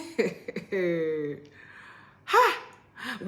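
A single sharp sneeze bursts out, then a short breathy follow-up, coming after a few voiced, throaty sounds.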